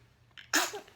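A single sharp sneeze with a brief inhaled lead-in, close and fairly loud.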